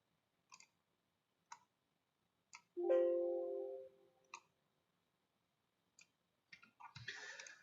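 Soft, isolated computer mouse clicks recur every second or so during Revit work in a quiet room, with a brief tonal beep and a louder rustle near the end.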